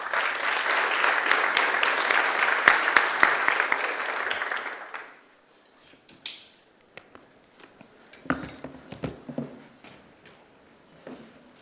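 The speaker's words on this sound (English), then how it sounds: "I would like you to make a warm round of applause for our first speaker, Ian." A conference audience gives a warm round of applause for a speaker: dense, steady clapping for several seconds that fades out, followed by scattered quiet room sounds.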